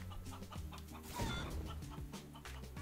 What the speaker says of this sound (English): There's a chicken down here?